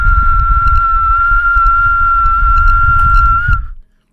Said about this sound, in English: try to whistle as loud as I can